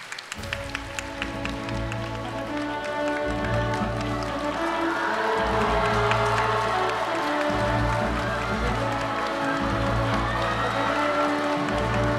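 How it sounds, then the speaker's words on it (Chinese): An audience at a debate competition applauds as the teams are welcomed, sustained clapping and cheering rising after a few isolated claps and holding steady to the end. "让我们用最热烈的掌声欢迎两支队伍选手登场"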